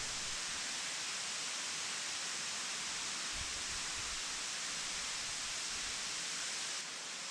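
Moore Cove Falls in North Carolina roars as a steady, dense rush of falling water from behind the cascade inside a wet cave, loud and unbroken throughout with no voices.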